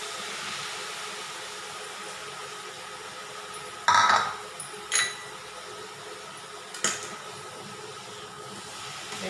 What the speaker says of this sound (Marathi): आता ह्या वांग्याच्या फोडी घालणार आहे.